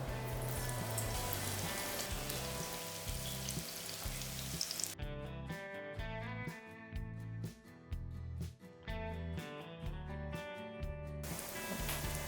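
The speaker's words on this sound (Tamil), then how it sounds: "எண்ணெய் சூடாக இருக்குது. இப்போ வந்து இதை 2 பேட்சாக போட்டு நம்ம பொரிச்சு எடுத்துட வேண்டியது தான்." Soya chunks (meal maker) deep frying in hot oil for a Soya 65 fry, a loud continuous sizzle and crackle close up, with a bright hissing burst at first that settles into steady bubbling.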